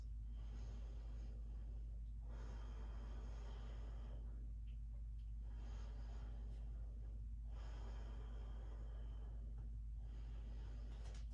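Deep rhythmic breathing held in a yoga crescent lunge, three slow audible inhale-exhale cycles, close and soft over a steady low hum, with no talk.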